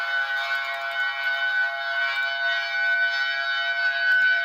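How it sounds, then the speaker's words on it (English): A tsunami warning siren in Hawaii wails as a steady, sustained civil-defense tone that holds nearly level throughout, heard from a distance with faint background noise and no voices. "Here's a video I shot when I was in Hawaii and the tsunami siren went off, man."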